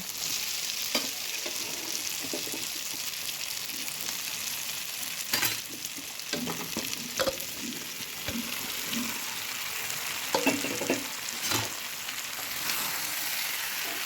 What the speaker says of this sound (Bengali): এখন আমি ভেজে রাখা সেই এঁচোড়টিও সেই তেলের মধ্যে দিয়ে দেব।